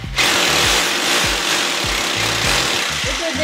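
A power drill grinds loudly and continuously at close range, with a rough, pulsing low rhythm as it bores through material, during a handyman job in a storage room.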